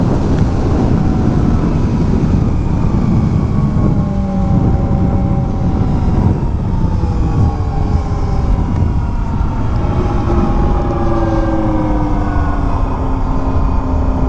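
An electric motorcycle on a first ride accelerates hard, its rising motor whine sweeping upward in pitch over a loud, steady rush of wind and road noise.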